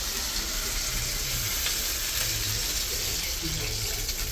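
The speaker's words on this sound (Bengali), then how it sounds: "এখন জল দিয়ে দিলাম" Water poured into a cooking pan of reddened, well-fried spices for a Bengali dish, producing a loud continuous rushing, bubbling hiss that stays steady throughout, with no talking.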